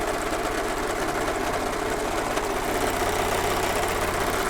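A serger overlock machine runs steadily while sewing a flatlock stitch on fabric, a loud, close, continuous mechanical whir with a fast, even rhythm and no pauses.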